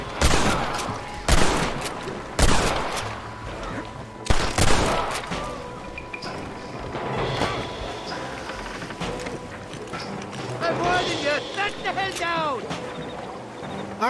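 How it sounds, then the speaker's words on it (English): Bursts of gunfire in the Red Dead Redemption video game, several sharp loud volleys in the first seconds followed by scattered shots over game ambience and voices talking. "They're shooting down on us."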